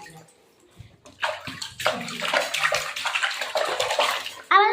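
Water sloshes and splashes in a tub as someone plays in it, a lively run of irregular splashes that swells from quiet to busy and ends in a louder burst, heard up close.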